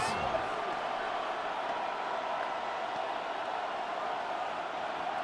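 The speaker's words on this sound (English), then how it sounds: "Well, this crowd trying to force a false start here." Stadium crowd noise in the Madden 26 football video game, a Bears vs Steelers matchup: a steady, moderately loud roar that holds constant, with a commentator's voice faintly mixed in.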